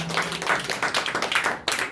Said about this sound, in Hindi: ये ताली मारेंगे